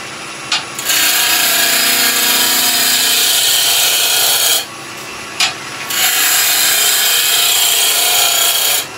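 A loud, steady grinding rasp of a wood lathe making roughing cuts with a gouge while turning wooden fruit, running continuously with a brief pause in the middle.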